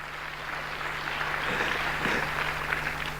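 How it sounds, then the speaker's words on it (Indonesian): Congregation in an Indonesian church sermon applauding, a steady wash of clapping with a faint hum underneath throughout. "Berikan tepuk tangan bagi Allah kita saudaraku."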